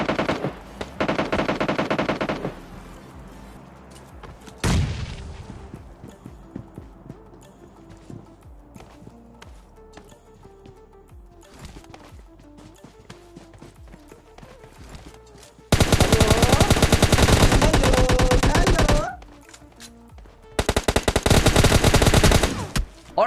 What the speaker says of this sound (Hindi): तभी हमको सामने वाली विलेज से फायरिंग की आवाज आती है